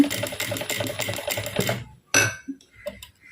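A sewing machine stitches darning lines in a rapid, steady mechanical patter, then stops, leaving a few isolated clicks and small handling knocks.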